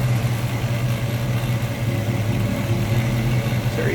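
A 1967 Chevrolet Nova SS engine idles steadily and smoothly, a close, continuous low rumble with no revving and no voices.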